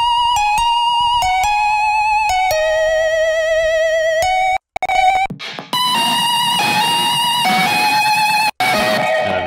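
Main guitar melody played with no amp simulation or distortion, a bright, thin, synth-like lead of clipped repeating notes, briefly breaking off, then returning over a fuller, busier backing.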